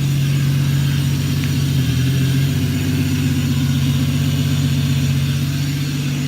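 Car engine with a modified, louder exhaust idles steadily close by, a deep constant drone with a brief swell near the middle, no voices over it.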